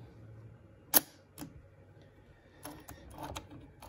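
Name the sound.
Leica iiiF camera shutter firing at 1/500th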